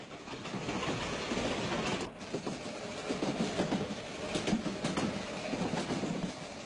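A Corgo line narrow-gauge branch train with power bogies runs slowly along twisting curves through terraced vineyard and olive hills, giving a steady rumble with soft rhythmic clatter from the wheels, fairly close and continuous.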